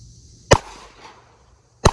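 Two sharp, loud gunshots from a Springfield Armory XD-M Elite 10mm compact pistol, roughly a second and a half apart, each a close crack with a short ringing tail.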